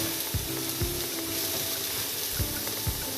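Cauliflower filling for stuffed Indian flatbread sizzles and fries steadily in a pan, with a spoon stirring and scraping through it and occasional soft knocks against the metal, close and continuous.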